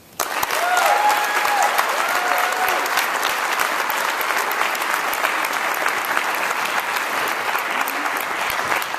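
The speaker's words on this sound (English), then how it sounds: "I just want to give another round of applause to Max." A ceremony audience at a Gatorade Player of the Year event bursts into sustained applause, dense, even clapping from many hands filling the room for nearly ten seconds, with an occasional whoop.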